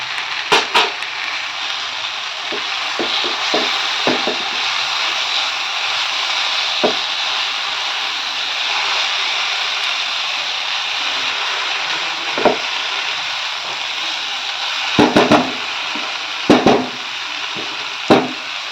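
A spatula stirs grated coconut into sweet pumpkin in a pan for a traditional Bengali dessert, with a steady sizzle underneath and sharp utensil knocks scattered throughout, clustering near the end, with no talking.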